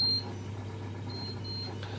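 A FreeStyle Libre glucose reader sounds its check-glucose alarm as a few short, thin, faint beeps over a quiet background hum.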